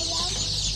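Chickens of the KUB breed clucking on a poultry farm, a short run of close, busy clucks over a steady hum.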